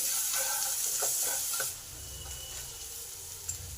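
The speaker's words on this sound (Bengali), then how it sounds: "পেঁয়াজটা আমার ভালোভাবে ভাজা হয়ে এসেছে।" Chopped onion fries in a pan with salt added, giving a steady sizzle and hiss with a few stirring scrapes early on. The frying noise then settles to a quieter, even crackle.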